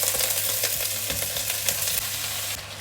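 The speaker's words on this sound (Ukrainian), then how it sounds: "будемо у ній розтоплювати масло, додамо фасольку і сухарики" Green beans frying in melted butter in a saucepan, a steady loud sizzle with scattered crackles and pops, close up and without any voices.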